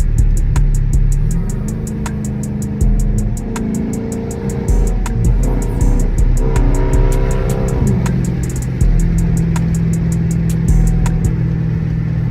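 A Chrysler 300 cruising at night, its engine rising and falling through several revs over a steady road rumble inside the cabin, with regular faint clicks ticking throughout.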